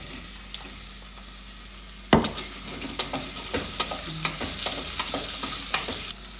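Onion, potato and carrot frying in a pot with lentils nearby, a steady close sizzle broken by a loud clatter as the vegetables drop in, followed by repeated stirring scrapes and taps.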